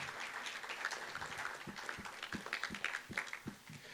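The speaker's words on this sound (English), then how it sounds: "a round of applause for this group" Audience applause for a speakers panel at NSMCon NA 2019, steady mixed clapping from a room of people with a few sharper individual claps standing out, lasting through the moment.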